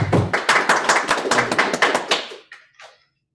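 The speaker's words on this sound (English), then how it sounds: "I've got Applause here." Fairly close clapping at a club meeting, a modest group whose quick, distinct claps run for about two and a half seconds before stopping abruptly, followed by a brief faint sound.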